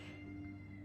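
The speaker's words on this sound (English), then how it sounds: "I'm so sorry about my cat again" A pet cat meows once, a short nasal cry over a constant low electrical hum in an indoor room, close to the microphone.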